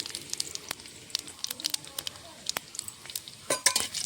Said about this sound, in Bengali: সম্বারার জন্য নিয়েছি শুকনো লঙ্কা, তেজপাতা, গোটা জিরে দিয়ে দেবো একসঙ্গে।